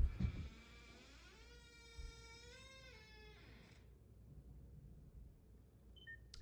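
A long, creaking door groan from The Mandela Catalogue rises and wavers in pitch for a couple of seconds, then fades into quiet room tone, with a faint beep near the end.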